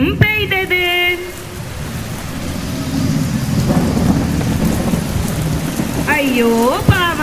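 Recorded rain and thunderstorm effect for a children's stage story at an annual day show: steady hiss of heavy rain with rolling thunder rumble, bracketed by short high voice-like chirps at the start and end.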